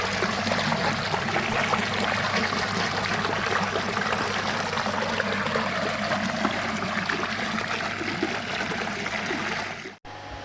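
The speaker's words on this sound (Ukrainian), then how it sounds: "Активно вода біжить." Water trickles through gravel continuously with a steady bubbling wash in a pond regeneration zone, close by and fairly even, cutting off briefly near the end.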